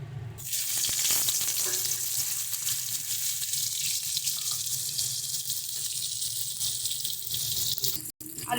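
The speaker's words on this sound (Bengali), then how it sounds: "এবার এই মাছ ভাজার তেলে আমরা আলুটা ভেজে নেব" Steady, loud hissing sizzle of potato strips frying in oil previously used for frying fish, continuous and close, with no talking.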